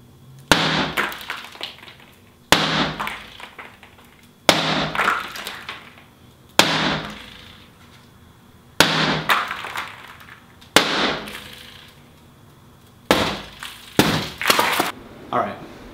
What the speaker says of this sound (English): you just saw me break the glass without the film